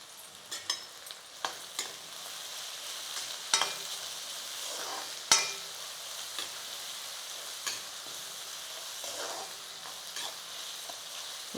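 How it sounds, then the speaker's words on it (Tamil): Sliced onions, salted, sauté in oil for a fish curry, a soft continuous sizzle broken by sharp scrapes and knocks of a spoon stirring the pan at irregular intervals. "வெங்காயம் கொஞ்சம் ப்ரௌன் கலரில் வர வரைக்கும் வதக்கலாம்"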